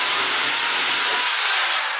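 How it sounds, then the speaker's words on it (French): A power drill bores a first hole into a living-room wall that is not concrete, giving a loud, steady broadband whine that holds continuously for about two seconds with no talk over it. "Oh, premier perçage."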